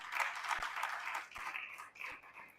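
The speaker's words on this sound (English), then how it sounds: "A round of applause for him, please." Faint, distant applause for a pastor being introduced as a speaker at a business and books event, a soft, continuous patter of clapping hands that dips briefly and then resumes.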